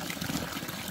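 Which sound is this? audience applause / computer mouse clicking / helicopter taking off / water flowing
water flowing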